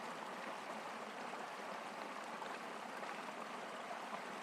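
Water flows steadily in Fareham Brook, a small local river near Nottingham, as an even, continuous rushing and babbling wash with no gaps and no voices.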